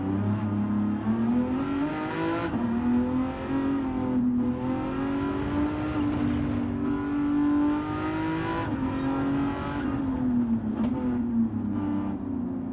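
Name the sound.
V12 car engine in racing video game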